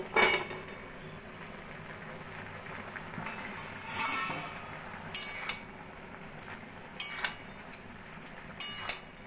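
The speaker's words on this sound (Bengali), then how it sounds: "এবার আমি ঢাকাটা তুলে দেখে নেব" A lid comes off a pot of Bengali lau shak (bottle gourd greens) simmering with potato and pumpkin, giving a few sharp metallic clinks and clatters over a soft, steady cooking hiss.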